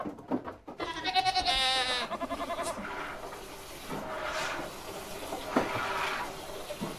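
A goat bleats in a long, wavering, loud call close by on a farm, followed by fainter bleats and shuffling sounds with some water noise.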